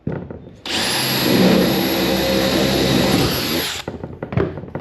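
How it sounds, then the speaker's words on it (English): A power drill whines steadily for about three seconds, drilling a hole in wood at close range, loud and continuous, with brief clatter before and after. "Drill a hole."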